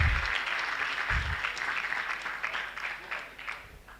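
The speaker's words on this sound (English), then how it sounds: "Another round of applause to the hardworking retiree." Audience applause for a retiree at an institute's anniversary and induction ceremony, a steady round of clapping with a few louder bursts, filling the room throughout.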